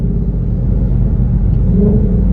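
A twin-turbo 2020 Shelby GT500 pulls hard in third gear, its deep, steady engine rumble close and loud throughout a short, continuous burst of acceleration.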